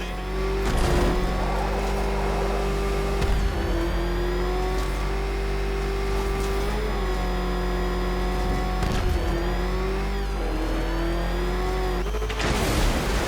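Batmobile engine in the Batman Arkham Knight video game, a loud, steady droning motor with a sustained pitched hum that dips and shifts slightly, heard alone throughout with occasional bursts of noise.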